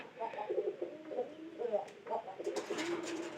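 Soft, low cooing of a newly bought pigeon with a cold repeats in a steady rhythm, with fainter bird chirps and a little background voice near the end.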